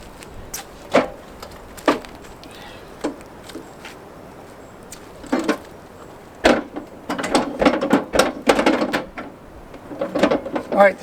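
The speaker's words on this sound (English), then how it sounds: "the MORryde steps need to come up before we can jack up the front" MORryde RV entry steps are raised and secured with a series of sharp metallic clanks and ratcheting clicks, sparse at first, then quicker and clustered, with faint talk in the background.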